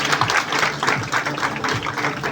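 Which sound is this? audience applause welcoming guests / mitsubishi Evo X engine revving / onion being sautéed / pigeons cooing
audience applause welcoming guests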